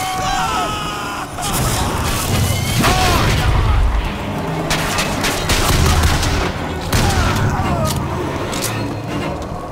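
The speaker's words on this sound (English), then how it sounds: "Okay, who's shooting at me?" Dense gunfire in BioShock Infinite, rapid overlapping shots and bursts with booming impacts, loud and continuous over several seconds, a voice briefly heard among the shooting.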